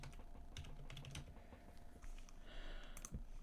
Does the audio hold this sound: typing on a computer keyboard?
yes